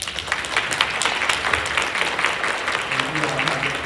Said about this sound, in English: We want to give this wonderful panel another round of applause.